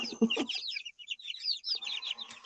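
A four-week-old young rooster clucks and peeps in a quick run of high, chirpy calls, close and fairly loud, with a short burst of lower clucking at the start and light background rustle.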